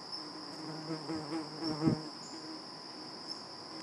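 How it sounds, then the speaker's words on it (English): Bees buzz close by in a steady drone, with a constant high whine and a few louder passes as one flies near. "I got bees crawling all over me, on my phone, in my face."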